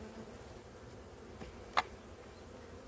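Honey bees hum faintly and steadily around an opened hive during a spring inspection, with a soft low drone and one brief sharp tap or click partway through.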